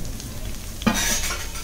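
Onions sautéing for Malvani mutton curry, with a steady close sizzle and a single sharp spoon scrape in the pan partway through.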